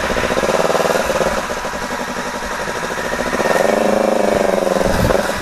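Several motorcycles from the Pampanga Goat Riders club idle close by in a steady, throbbing rumble that swells briefly as one engine is revved.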